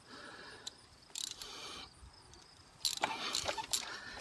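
A socket ratchet works loose a spark plug on a 2.4-litre Jeep Compass, giving a few short, close metallic ratcheting clicks over a quiet garage background.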